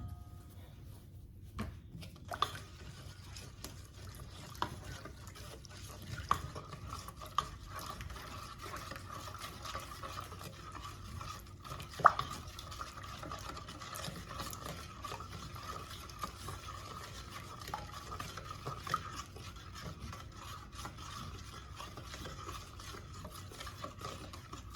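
Yeast mixture being stirred into flour for bread dough, soft wet scraping and sloshing strokes repeating quietly and irregularly, with an occasional faint clack against the bowl.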